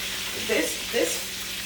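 Fish frying in an old non-stick pan gives a steady bright sizzle, with a couple of soft stirring movements partway through, close and continuous.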